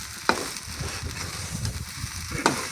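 Sago pearls stir-roasted in a pan, heard as soft dry rustling and faint sizzle under repeated scraping strokes, with two sharp clicks of a spatula against the pan.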